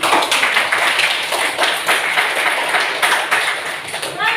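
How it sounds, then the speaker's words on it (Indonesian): A group claps hands in sustained applause, loud and close, lasting a few seconds. "jadi tepuk tangan dulu untuk kelompok yang"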